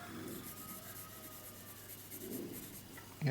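A pencil shading sideways across paper for a geometry drawing: a soft continuous scratchy rubbing in two sweeping strokes, close and quiet, with no voices.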